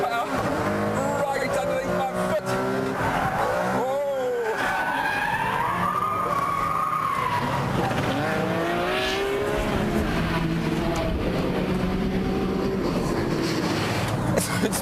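A Ferrari Enzo supercar with a 600-horsepower engine roars continuously at speed, its pitch rising and sweeping through gear changes, with tyre skids and loud, steady engine noise throughout.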